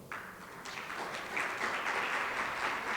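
An audience claps at a seminar on implementing ISSB standards, welcoming a panel speaker with steady applause that swells slightly and holds at moderate volume from start to finish.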